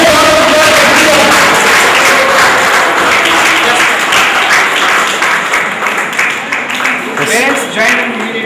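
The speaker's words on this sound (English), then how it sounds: "Well, a big round of applause for Preetham." Audience at a school awards evening in southern India applauding an award winner, loud dense clapping close to the microphone, with crowd voices and cheering mixed under the sustained applause.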